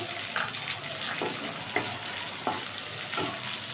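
Cubed onion frying in a pan for chili chicken, a soft steady sizzle with a few brief stirring scrapes, close up and with no talking.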